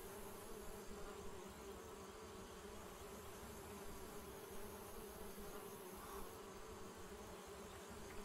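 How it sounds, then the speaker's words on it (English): Bees swarming in a hole in a wall in the video game Secret Files: Puritas Cordis make a steady, unbroken buzzing drone, quiet but continuous, with no voices. "Those bees don't look very peaceful to me."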